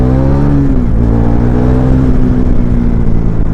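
A Yamaha R15 V4 motorcycle accelerates during a ride, its engine note droning loud and close with a rising then steady tone under constant wind rush.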